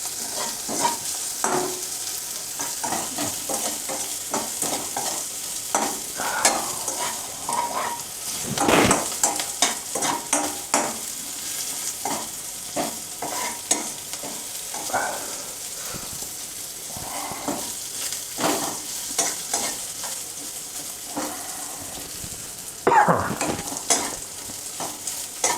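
Green chillies roast in a pan over low flame for a crispy pohe chivda, a steady sizzle broken by frequent scraping stirs and clinks of the spoon against the pan, close and continuous with no talking.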